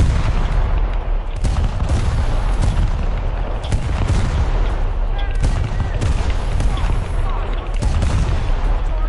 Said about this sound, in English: Let's see what's shooting at me over here.